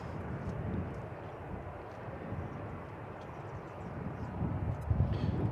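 An American Airlines airliner at DFW Airport, heard as a fairly faint, continuous jet rumble that swells slightly toward the end, with some outdoor wind noise.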